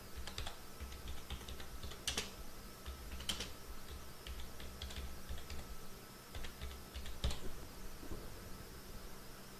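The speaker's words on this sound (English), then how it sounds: "I am just going to use this text tool and type a title for the brochure." Quiet clicks of fingers typing on a computer keyboard, in short irregular bursts of keystrokes with pauses between them, close and faint.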